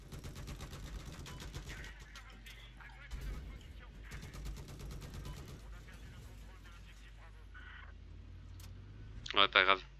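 Gunfire in Battlefield 4 on the Siege of Shanghai map: rapid bursts of automatic fire and rattling battle noise, with a loud close burst near the end.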